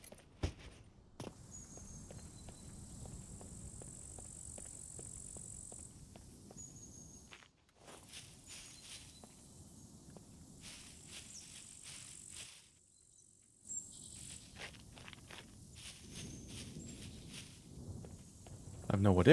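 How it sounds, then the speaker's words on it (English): Footsteps tap in a rapid, even rhythm across the ground in the survival game SCUM, fairly close and soft, set against chirping insects, briefly cutting out twice before resuming. "I just heard footsteps"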